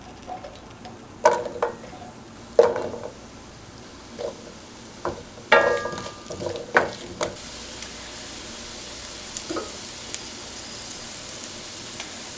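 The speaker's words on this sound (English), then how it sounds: "When my oil's really, really hot, then I'll add my sweet potatoes." Sweet potatoes hitting very hot vegetable oil in a skillet over medium-high heat make a low, steady sizzle, broken by several sharp clatters and scrapes in the first seven seconds before settling to a quieter fry.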